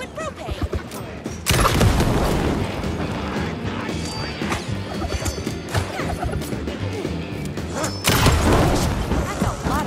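A pressurized liquid propane tank bursts into a loud roaring blaze in the horror game Alan Wake 2, with heavy crashing booms at the start and again near the end, separated by sustained crackling fire and clatter.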